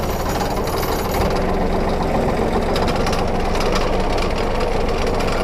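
A green tractor's engine idles steadily up close, a continuous loud, rough low rumble with a rapid knocking pulse running unbroken throughout.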